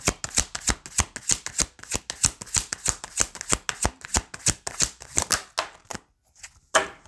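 Rapid rhythmic riffling of tarot cards being shuffled, many crisp flutters in quick succession, close and clear, ending with a few slower slaps.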